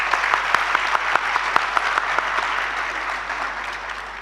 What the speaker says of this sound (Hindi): उसके लिए बहुत सी तालियां।